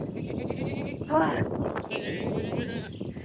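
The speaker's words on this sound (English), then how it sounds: "Get away from the screaming goats." A goat's bleat rises briefly over steady wind noise and nearby chatter on a homestead, loud and close for about a second before the talk continues.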